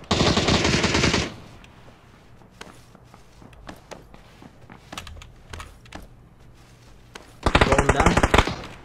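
Bursts of gunfire from the video game PUBG, a cluster of sharp shots in the middle with loud keyboard clatter and louder bursts at the start and end, mixed with players talking.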